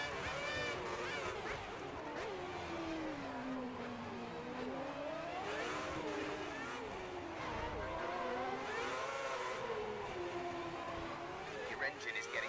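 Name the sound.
F1 car engine revving in F1 2010 video game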